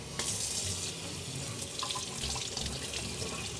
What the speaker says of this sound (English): it's just as simple as running water to rinse it out